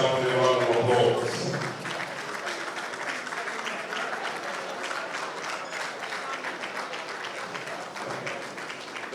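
An audience applauds a government minister at a formal event, with dense sustained clapping from a large crowd. A voice speaks briefly at the start over the applause.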